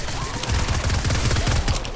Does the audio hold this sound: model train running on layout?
no